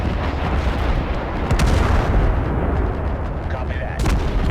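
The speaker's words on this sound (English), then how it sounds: "Oh, he's got artillery as well." Artillery fire in the war game Total Conflict: Resistance, with a dense, continuous barrage of booming, rumbling blasts and a sharper burst near the end, while a voice talks over it.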